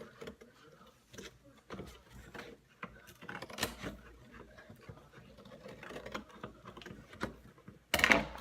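Scissors cut through a thin cardboard cereal box, making a series of irregular crisp snips and crunches close by, with a louder rustle at the very end.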